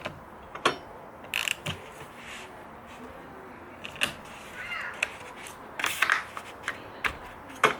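A ratchet tightens a car battery hold-down in short bursts of rapid clicking, separated by brief pauses and faint handling noise, close by.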